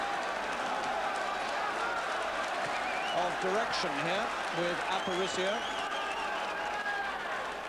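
A boxing crowd at the Steve Early vs Oscar Aparicio fight applauds and cheers steadily throughout as Aparicio storms back into the attack, a dense wash of clapping under a commentator's continuous talk.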